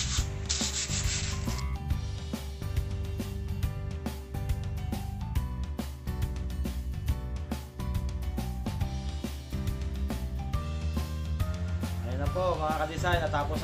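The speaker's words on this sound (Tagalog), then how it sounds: "Ito po yung liha na gagamitin natin doon sa ating ginagawang mango." Rhythmic rubbing strokes of sandpaper on a wooden hammer handle repeat steadily, close and fairly loud, over background music.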